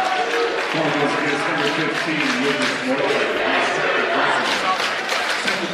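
A home crowd cheers and applauds loudly in a high school basketball gym after an and-one play, a steady roar of clapping and shouting, with a commentator talking over it.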